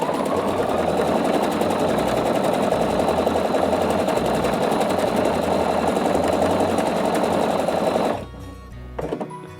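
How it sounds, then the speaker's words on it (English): A Pfaff Quilt Expression 720 sewing machine stitches steadily with a loud, fast, even whirring hum that runs for about eight seconds before stopping abruptly, followed by a few faint clicks. "at this point, I hit the reverse button and then I continue stitching."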